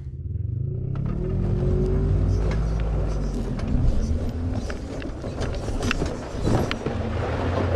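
A Christini electric ATV rolling over terrain in Moab, Utah, giving a low, steady rumble with wind buffeting the microphone and scattered crunches from the ground, with no engine roar.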